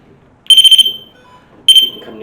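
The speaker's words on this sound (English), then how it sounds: "this little alarm goes off" A small proximity alarm used on a ghost hunt gives two bursts of loud, shrill, rapidly pulsing beeps, the first longer, over faint room background.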